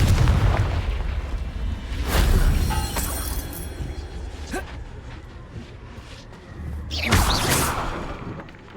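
Confringo blasting spells explode in Hogwarts Legacy, two loud booming bursts several seconds apart, each with a crackling, shattering edge over a low rumble, amid game combat noise.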